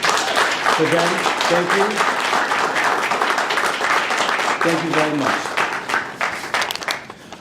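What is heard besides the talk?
audience applause at Capitol Hill observance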